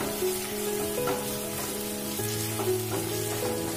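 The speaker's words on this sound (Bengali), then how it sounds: "এবার আমি মশলাটা ভালোভাবে কষিয়ে নেবো। যতক্ষণ না মশলা থেকে তেল ছেড়ে বেরোচ্ছে।" Masala with slit green chillies fries in oil for a Bengali fish curry, a steady dense sizzle with light stirring scrapes and a faint tonal hum underneath.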